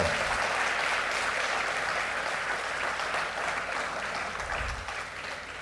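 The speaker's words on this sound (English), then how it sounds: "give a huge round of applause for your parents" Sustained applause from an audience of students and parents at a pre-departure ceremony for medical study abroad, a loud, even roar of clapping that eases slightly toward the end.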